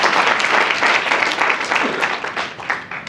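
Warm round of applause from attendees at a book launch, dense steady clapping from a crowd filling the whole stretch with slight swells, fairly loud and close.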